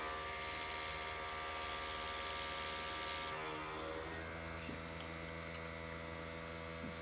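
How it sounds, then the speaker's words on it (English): An airbrush spraying thinned paint onto a miniature model, a steady hiss over a compressor hum that stops abruptly partway through, leaving only the low electrical hum and small clicks. "Let's spray it on the model and find out"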